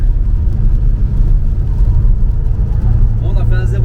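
Audi RS7 accelerating hard on a German road at very high speed: a loud, continuous low engine and road roar filling the cabin, with a person starting to speak near the end.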